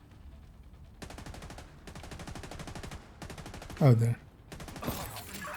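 Video-game gunfire rattles in several rapid automatic bursts separated by short pauses, moderately loud, with a brief spoken remark in between.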